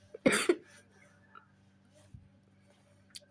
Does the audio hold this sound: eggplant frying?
no